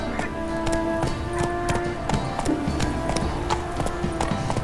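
Roach, the horse in the video game The Witcher 3: Wild Hunt, gallops with a steady clip-clop hoofbeat rhythm, loud and continuous, with a brief game tone and other game sounds underneath.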